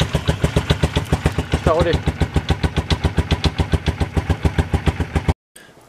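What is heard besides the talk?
quad engine starting after battery recharge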